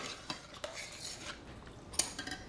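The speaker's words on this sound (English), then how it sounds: "Give it a stir" A spoon stirs chickpea curry in a pot, giving a few soft clinks and scrapes over a faint background hiss, with no talking.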